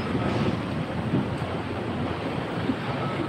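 Wind rushes and buffets against the microphone in a continuous broadband roar, steady and fairly close, with no voices.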